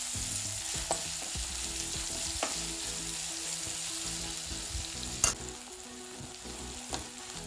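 Masala and onion for palak paneer fry in a pan with a soft continuous sizzle, while a spoon stirs and scrapes now and then with a few sharper clinks, close but fairly quiet, and nobody speaks.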